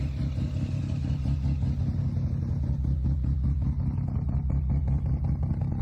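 A right-hand-drive car's engine idles close by with a steady, throbbing low rumble and a faint rhythmic clatter, holding an even level throughout.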